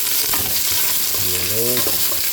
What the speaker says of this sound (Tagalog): Magigisa tayo mga lods. Sibuyas. Bawang.